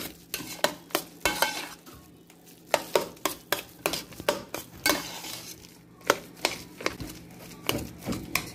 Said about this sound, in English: A little butter. We're going to mix this up.